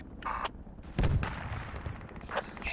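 Gunfire in the military shooter Project Reality, fired down a road: a few sharp cracks and a heavier close shot echo over a brief rumbling background, with short faint bursts scattered through.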